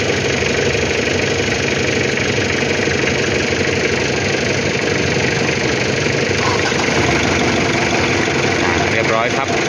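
A car engine runs after being started with a battery jump, idling in a loud steady rumble close by, while someone talks over it.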